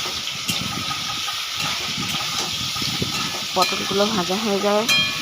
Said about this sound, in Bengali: আর পটলগুলো ভাজা চাপিয়ে দিয়েছি, পটলগুলো ভাজা হচ্ছে